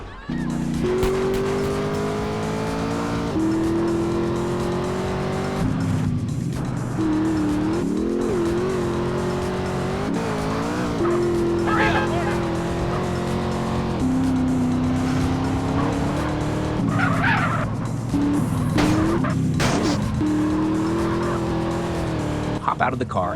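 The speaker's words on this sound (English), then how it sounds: "Get into the car and quickly drive towards Pay and Spray." Car driven fast in the video game GTA San Andreas, with a steady loud engine drone whose pitch shifts as the car accelerates and turns, and a voice talking over it throughout.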